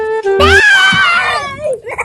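A person screams nearby, one loud, high-pitched cry held for about a second, with a short sound just before it and quieter noise trailing after.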